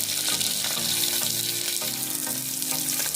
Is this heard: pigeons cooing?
no